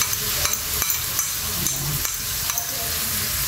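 Egg frying with snake gourd sizzles steadily in a pan, with a series of sharp scraping clicks as it is stirred, close and fairly loud.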